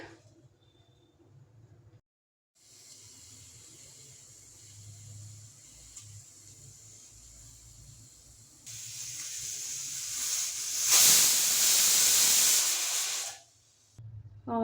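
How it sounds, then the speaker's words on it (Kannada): Pressure cooker with its lid closed, cooking toor dal for radish dal saaru, builds a steady steam hiss that swells into a loud, bright rushing jet near the end before cutting off, with no talk. "ಇವಾಗ ಕುಕ್ಕರ್ ಲಿಡ್ ಕ್ಲೋಸ್ ಮಾಡಿದ್ದೀನಿ ಒಂದು ವಿಷಲ್ ಹೊಡೆಯೋವರೆಗೂ ವೆಯ್ಟ್ ಮಾಡೋಣ"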